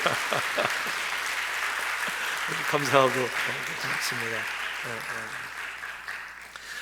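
A church congregation at a Sunday afternoon service claps steadily to welcome back four returning deaconesses, the applause running the whole time beneath someone speaking.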